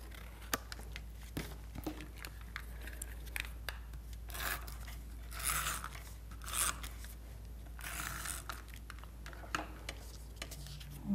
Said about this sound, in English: I'm just going to cut the corners off.